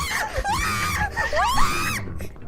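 Several girls scream shrilly and repeatedly during a Hololive stream, their high wavering shrieks overlapping loudly for the whole stretch before cutting off near the end.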